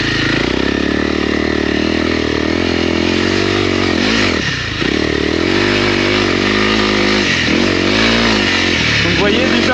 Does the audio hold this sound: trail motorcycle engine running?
yes